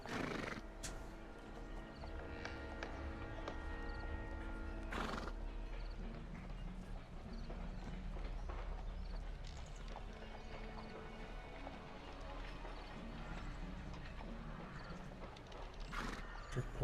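Horse-drawn cab in the Sherlock Holmes: The Devil's Daughter video game, with a horse neighing loudly at intervals over steady clip-clop hooves and light background music.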